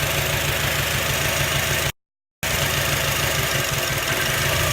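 An Acura car engine idles roughly with a misfire, a steady close, loud mechanical drone with an uneven pulsing beat, cut by a brief dropout of silence midway before resuming.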